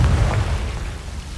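A Confringo explosion spell in Hogwarts Legacy: a loud, deep, rumbling blast that fills the whole short clip, with no talk over it.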